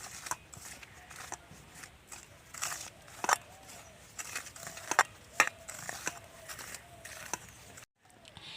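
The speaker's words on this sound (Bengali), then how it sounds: "এবার সবগুলো উপকরণ আমি এই শুকনো অবস্থায় খুব ভালো করে মিশিয়ে নেব।" Dry gram flour with turmeric and other spices being mixed in a bowl, with soft scraping and clinking of a spoon against the bowl in irregular bursts, close and moderately quiet, ending in a brief silence.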